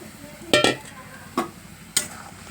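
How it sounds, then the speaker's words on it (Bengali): Fried ash gourd pieces stirred in a pan of mustard paste, giving three quick scraping strokes with soft sizzling between them, close and alone. "দিয়ে ভালো করে নেড়ে চেড়ে নেবো"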